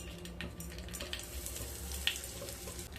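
Ghee and asafoetida sizzle softly in hot oil for a hing-begun brinjal dish: a faint, steady crackling fry with one brief sharp tick near the end, no voices.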